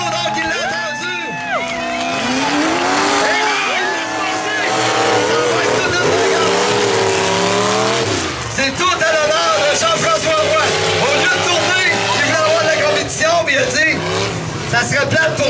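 Modified jalopy race cars battle on a circuit at a St-Ferdinand event, engines revving loudly and continuously with tire squeal and crowd noise, while an announcer talks over the racing throughout.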